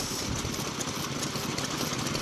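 Aichi Kikai 4 hp agricultural engine from the mid-1950s, with rocker arms and a carburetor and switchable between petrol and kerosene, running at an engine show in Chikuma, Nagano, a continuous loud close throbbing with no voices.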